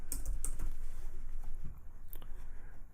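Typing on a computer keyboard, with a short run of close, fairly quiet keystrokes that click irregularly over a low background hum and no talking.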